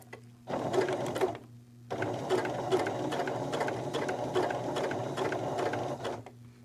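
A sewing machine stitches around a curve in two loud, close runs of rapid, even mechanical clatter, separated by a brief pause to pivot the fabric.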